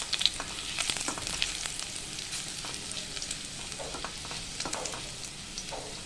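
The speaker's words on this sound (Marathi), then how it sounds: "4-5 मेथी दाणे घेतले होते मी, मेथी दाणे टाकलेत" Fenugreek seeds crackle in hot oil for a Malvani bangda fish curry, a close, even sizzle peppered with tiny sharp pops throughout.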